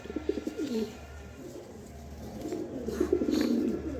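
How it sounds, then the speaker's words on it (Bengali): A pair of racer pigeons cooing close by in repeated throaty rolling phrases over a low steady hum, with no talking. "হ্যাঁ দর্শক এখানে এক পেয়ার কবুতর আছে"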